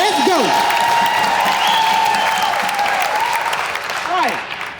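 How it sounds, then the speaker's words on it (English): An audience applauds with dense, sustained clapping and some cheering, while a voice talks loudly over the crowd throughout. "Give them a round of applause."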